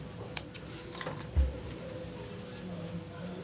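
Scissors snipping a crochet yarn tail on a granny square, a few faint close clicks and one soft low thump amid quiet background.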